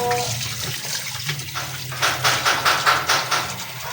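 Tap water runs into a sink while meat is rubbed and rinsed under it, with rhythmic splashing pulses growing more regular toward the end.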